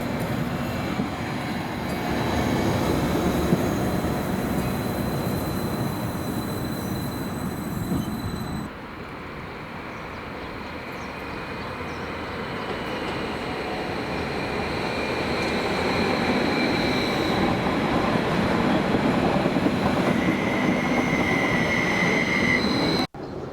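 A Transport for Wales Class 231 FLIRT diesel multiple unit rumbles steadily along the tracks with a droning diesel engine and rolling wheel noise, heard from inside, loud and continuous with no speech.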